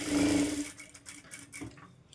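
A sewing machine stitching a princess-cut boat-neck designer blouse whirs loudly and close for a short run, then stops, leaving faint clicks and handling noises.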